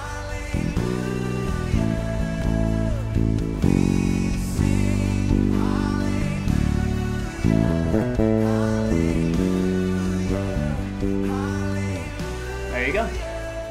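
A bass guitar line from a song is played along with the full band recording, and its low notes pulse steadily beneath the drums and keys.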